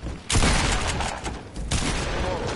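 Gunfire in a multiplayer shooter video game, a dense crackling burst of shots starting abruptly and continuing with rapid reports, a brief lull, then another loud volley.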